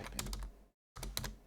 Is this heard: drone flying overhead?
no